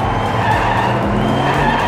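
A diecast Porsche race car drifts out of control on a miniature track, a loud, continuous skidding and rumbling rush of tiny wheels close by.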